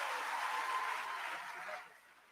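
Applause at an induction ceremony for newly qualified medical and dental practitioners: a dense, fairly distant patter of clapping from a seated audience that holds steady, then fades out quickly near the end.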